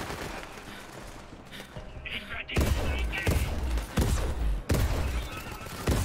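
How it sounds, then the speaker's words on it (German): Gunfire aimed at the player in the video game Borderlands 3, with several sharp, loud shots bursting in at irregular intervals over a busy game soundscape, with no talk over it. "Und werde schon beschossen."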